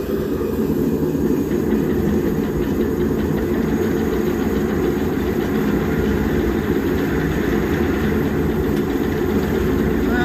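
A maple burl blank spins on a wood lathe, its motor giving a steady, unbroken low drone with a slight rumble for the whole stretch, with no talk.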